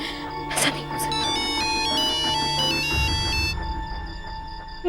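A phone ringtone plays a repeating electronic melody at steady volume throughout the scene from the Indian TV crime drama Savdhaan India, cutting off near the end.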